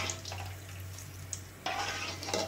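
Banana chips deep frying in hot oil, a steady crackling sizzle with occasional stirring clinks, close and continuous, growing busier partway through.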